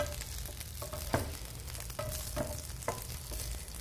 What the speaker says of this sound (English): You hear that sizzling, huh? I hear the sizzle.